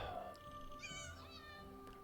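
A cat in Elder Scrolls Online lets out a single drawn-out meow, rising then falling, fairly faint against a quiet game ambience.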